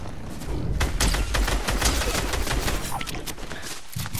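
Rapid bursts of Fortnite video game gunfire crackle loudly and almost continuously, with overlapping shots and a brief lull near the end before a final burst.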